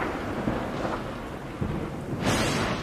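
Thunder rolls through a lightning storm in Yosemite, a steady low rumble that swells into a louder crack near the end, with rain-like hiss underneath and no voices.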